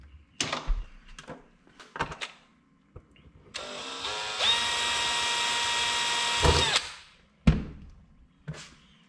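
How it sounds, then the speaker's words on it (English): A power drill boring a small hole into a block of homemade ice, a steady whining run of about three seconds with sharp clicks and knocks before and after, fairly close and alone. "let me drill a little hole in it and we'll go right to the center."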